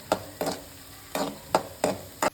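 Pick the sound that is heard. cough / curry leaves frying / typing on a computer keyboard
curry leaves frying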